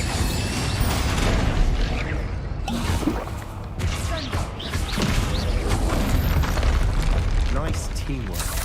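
Bombarda explosion spells in the Hogwarts Legacy video game go off in loud booms and whooshes amid the clatter of combat during a troll fight, with shouted spell names over the noise.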